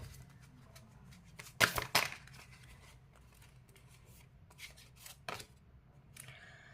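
Tarot cards are shuffled in a few quick, crisp riffling bursts close by, separated by quiet pauses, with soft card handling between.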